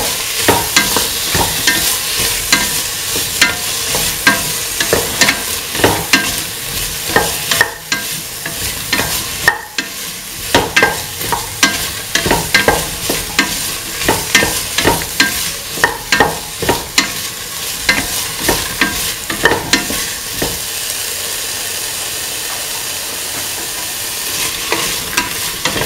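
Vegetables for a green pea, cauliflower and carrot coconut milk rice sautéing in a pan, a steady close sizzle broken by frequent sharp scraping and clinking stirs, with no talking.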